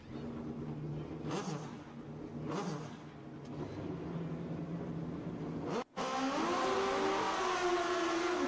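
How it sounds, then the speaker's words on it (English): Kawasaki and Suzuki motorcycles do burnouts at a drag race, a distant continuous engine roar with rising revs that swells louder and harsher after a brief gap. "Big burnouts by both riders."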